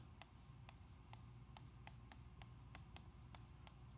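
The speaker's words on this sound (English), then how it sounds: "I hear pencils moving." Pencils scratch across paper in repeated short strokes, a steady rhythm of quick scribbles close by over a low room hum.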